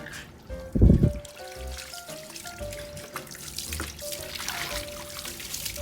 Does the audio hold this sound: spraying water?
yes